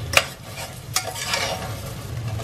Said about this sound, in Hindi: इसको अभी भूनना है और इसको ढक ढक के इस तरह से मसाला जैसा बना लिया